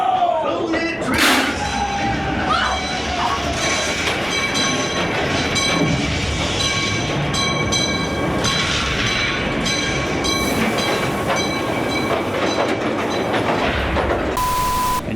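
A train rumbles past loudly and steadily for the whole stretch, with rattling wheels, squealing metal and a horn sounding near the end over a busy crowd at Knott's Berry Farm theme park.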